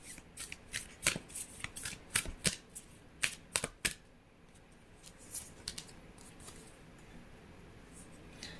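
A Moon Oracle card deck being shuffled by hand, with bursts of crisp riffling and flicking clustered in the first four seconds, then quieter occasional card handling.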